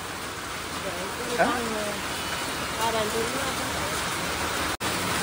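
Heavy rain pours down in a steady broadband wash while a person talks over it, the downpour continuous and fairly loud throughout.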